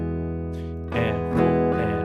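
An acoustic guitar plays a strumming pattern of eighth-note and ghost strums, a lone held chord ringing out and then sharper brushed strums landing close and clear without speech.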